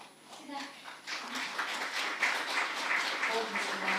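Applause from the audience at an international rehabilitation forum in Lviv, a fairly quiet patter of clapping that builds and holds steady, with a few voices and a voice faintly underneath.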